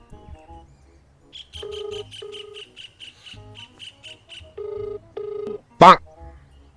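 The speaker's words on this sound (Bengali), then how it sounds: "এখন আমি আমার নম্বর থেকে কল করব" A mobile phone call rings out with repeated electronic ringing tones and a chirpy beeping pattern in short bursts, ending in a sudden sharp, loud electronic sweep.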